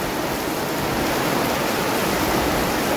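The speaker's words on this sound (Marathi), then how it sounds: "पावसाचा पाणीच वेगात वाहतात" Monsoon rainwater gushes fast off village roofs during a Konkan downpour, a dense, loud, unbroken rushing wash with no voices.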